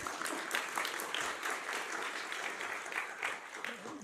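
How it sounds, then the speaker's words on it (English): Audience applause at a data science seminar, a steady dense patter of many hands clapping, moderately loud and continuous throughout with no speech over it. "There's a bit of applause in here."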